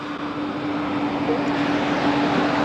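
Distant fixed-wing airplane taking off near the Columbia River, a steady broadband engine roar holding evenly throughout with a faint constant hum beneath, no talking.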